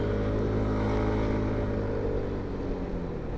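A Yamaha Fluo 125 ABS scooter's 125cc engine drones steadily at an even pitch while climbing a slope at about 40 to 47 km/h, a continuous motor hum with no speech.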